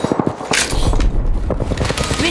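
Rapid automatic gunfire in the Apex Legends video game, a loud close burst of quick shots followed by a longer sustained volley with booming impacts.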